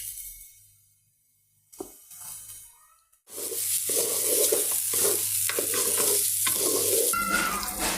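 Rice being stirred and fried in a pan with ginger-garlic paste, steady sizzling and scraping of the spoon that starts after a quiet moment and continues loud and close.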